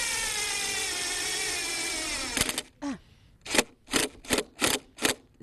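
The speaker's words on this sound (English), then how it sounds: "You're just going to take your drill, get your screw placed in your pilot hole" A power drill drives a porcelain-coated screw into a pre-drilled pilot hole in a garden setting, first a steady whirring run, then several short loud bursts of the motor with brief pauses between.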